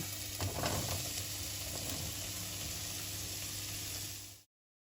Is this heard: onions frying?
yes